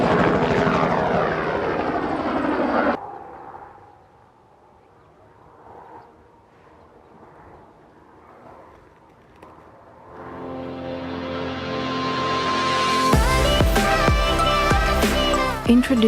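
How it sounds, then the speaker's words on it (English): Kitty Hawk Heaviside electric VTOL aircraft flying, a loud whirring rotor and motor drone that cuts out, leaves a quiet stretch, then returns and swells to a strong, close, steady roar. "Project Heaviside is Kitty Hawk's latest electric VTOL vehicle."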